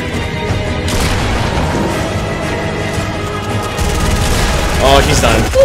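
Sustained bursts of gunfire roar through a frantic firefight in a mobile shooter game, loud and continuous with rapid overlapping shots and booms and no pause.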